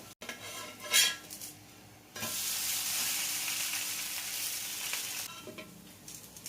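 A dosa frying in a hot pan after being flipped to cook its other side, giving a steady close sizzle with a few utensil clinks before it, and no talking.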